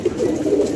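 A dabaz pigeon with deep red eyes gives a short, close, low cooing call.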